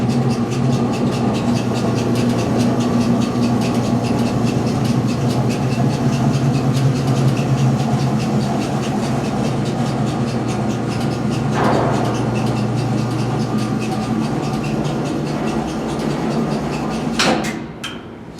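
A National Wheel-O-Vator screw-driven wheelchair lift riding, giving a steady, loud motor hum and mechanical drone with a faint click partway through, then a clunk as it stops at the end.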